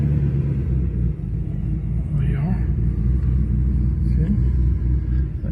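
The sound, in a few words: 1975 Pontiac LeMans engine running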